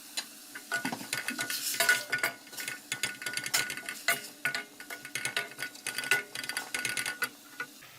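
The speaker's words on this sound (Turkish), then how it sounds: "Etleri bu tencerede hafif bir kavuruyorum." Meat for tantuni sautés in oil in a pot, with sizzling under frequent close metallic scrapes and clinks of a utensil stirring against the pot.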